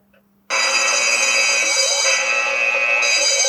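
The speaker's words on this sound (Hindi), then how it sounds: "सायरन भी बजा सकते हैं" A phone running a CCTV camera app sounds a loud electronic siren alarm that starts abruptly after a brief quiet moment and then repeats its steady, ringing tone pattern up close for the rest of the span.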